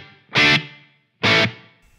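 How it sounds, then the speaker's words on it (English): Two distorted electric guitar chords through a Line 6 Helix model of an Orange Rockerverb 100 MkIII, strummed about a second apart, each cut short and followed by a brief reverberant room tail. "So there should be a bit of reverb here as well."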